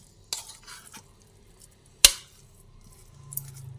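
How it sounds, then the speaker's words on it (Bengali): A spoon mixes egg kofta mixture in a bowl, giving a few soft scraping strokes and one sharp clink against the dish, close and quiet. "প্রথমে একটু হাত দিয়ে চামচ দিয়ে মিশিয়ে দিচ্ছি"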